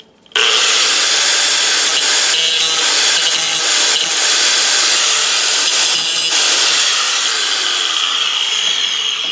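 A grinder trims a metal patch on a junkyard Cadillac, throwing sparks. It makes a loud, harsh, continuous whine that starts abruptly and holds nearly steady throughout, with no voices.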